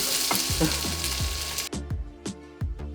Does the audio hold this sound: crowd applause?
no